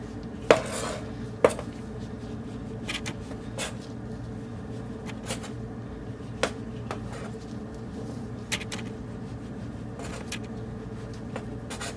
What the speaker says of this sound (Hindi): इस तरह से सारे स्लाइसेस को कट कर लेंगे